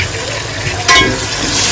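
Tomato, garam masala, turmeric, coriander, ground green chilli, ginger-garlic and red masala added together to a hot pan, giving a loud, close, steady sizzle that swells sharply as the mixture goes in.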